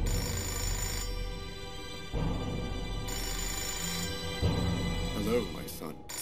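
A telephone rings repeatedly in the video game Fahrenheit: Indigo Prophecy, with steady electronic bell-like rings pulsing at about one-second intervals over low background music and game ambience.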